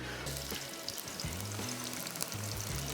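Onions frying and browning in a cooking pan give a steady, close sizzle with bubbling crackle, interrupted by brief scraping and stirring sounds.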